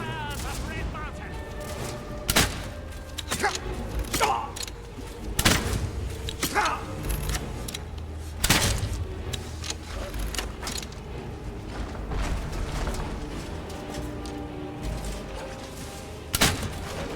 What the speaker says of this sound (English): With all the explosions, I really have no idea what's going on in combat.